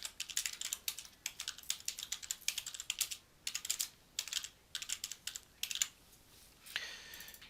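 Someone types a chart title on a computer keyboard, producing quick runs of crisp key clicks in several bursts broken by brief pauses, close and fairly quiet, ending in a near-silent gap and a soft final click.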